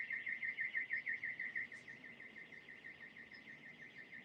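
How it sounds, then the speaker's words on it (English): A neighbor's car alarm wails steadily at a distance, its rapid warbling siren pulsing on without a break and slowly fading a little; no one speaks. "Can you hear that car alarm? It's one of the neighbors."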